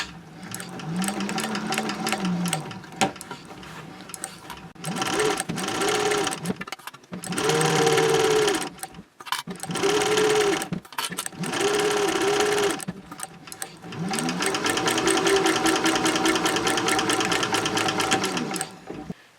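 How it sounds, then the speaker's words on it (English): A sewing machine runs a half-inch seam with backstitching at both ends, sounding as loud mechanical bursts of rapid stitching broken by short pauses, with a longer continuous run at the end. "you're going to sew right along your 1/2 inch seam line"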